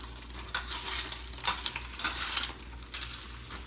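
Bologna slices frying in a pan sizzle steadily up close, with repeated scraping stirs and crackles and no talking.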